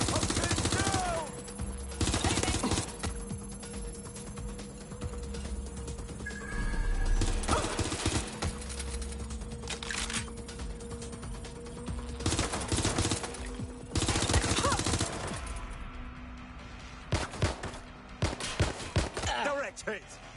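Machine gun fire from a video game rattles in repeated bursts, loud and close, with shorter gunshots and other game effects mixed in and pauses between the volleys.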